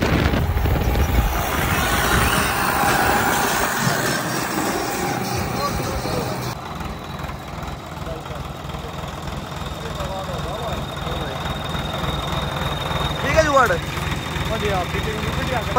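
A Swaraj tractor fitted with a turbo engine idles nearby, a steady low rumble with some whine, while someone talks over it throughout.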